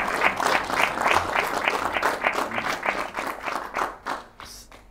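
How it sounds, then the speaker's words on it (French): Audience applause in a studio talk-show setting, a rhythmic wash of clapping hands that swells near and steady, then thins and fades toward the end with a few last scattered claps. "Les applaudissements parlent d'eux-mêmes."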